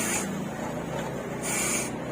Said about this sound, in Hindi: ये सांप की आवाज़ है, मैं बता दूं आपको।